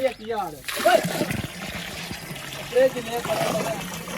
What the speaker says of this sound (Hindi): यहाँ गाय पानी पीती हैं, पानी बड़ा जा रहा है।